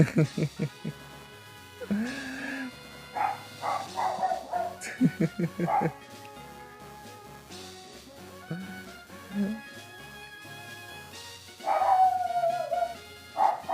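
A dog barks several times in sharp bursts near the start and again later, fairly close, while someone talks over ongoing video game music.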